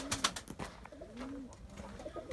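Taşköprü tumbler pigeons in their coop coo with soft, low, rolling calls, several overlapping coos close by amid faint rustling and a brief sharper sound at the start.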